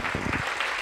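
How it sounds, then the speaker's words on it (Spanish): A church congregation claps together, a brief burst of loud, close applause during a Spanish-language sermon. "Dé ese fuerte aplauso al Señor en esta mañana"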